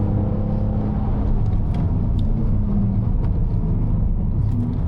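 A car engine under throttle, either a Hyundai i20N or a BMW Z3 Coupe, a close, loud, steady low rumble with a droning growl and faint rattles throughout, no talking.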